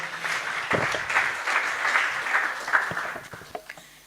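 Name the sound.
applause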